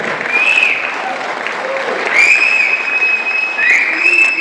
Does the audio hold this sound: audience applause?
yes